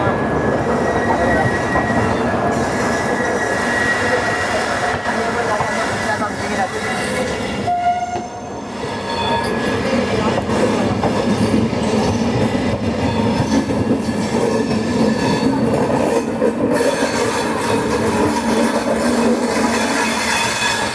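A double-decker express train runs on the rails between Mumbai and Ahmedabad with a loud, continuous rumble and clatter of wheels and faint squeals, heard from on board for a sustained stretch.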